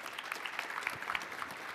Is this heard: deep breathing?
no